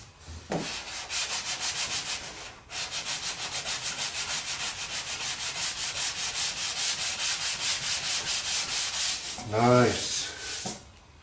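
Rapid, steady back-and-forth sandpaper strokes sharpening the body lines of a vehicle panel, a continuous rhythmic scratching with a brief pause partway and a few heavier thumps near the end.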